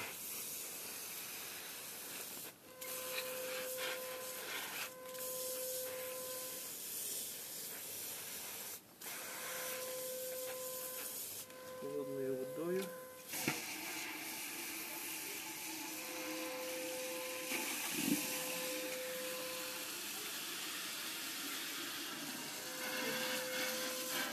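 Steady hissing rush of hot water draining from a sack, poured off before rinsing with cold water, continues throughout, with occasional faint tonal beeps and brief clunks in the background.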